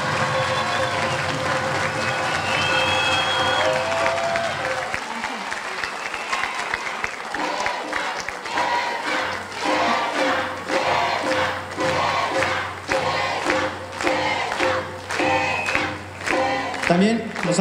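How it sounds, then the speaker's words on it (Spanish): An audience at a legislative report event applauds to welcome a legislator, loud sustained clapping mixed with crowd shouts that then breaks into rhythmic, pulsing group clapping, with voices and music faintly underneath. "Recibamos con un fuerte aplauso a nuestra compañera diputada Isabel Delgado Flores."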